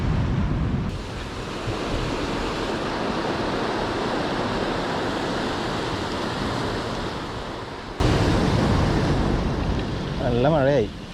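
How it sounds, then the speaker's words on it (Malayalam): Heavy rain pours at a seashore during rainy-season fishing, mixed with breaking surf, making a steady, loud broadband roar with wind buffeting the microphone, interrupted by two abrupt cuts. "നല്ല മഴയായി."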